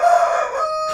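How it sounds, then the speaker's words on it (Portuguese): A rooster gives one loud, close crow, a sustained nasal call that wavers and trails off, heard alone. "Você é um galo, né, cara?"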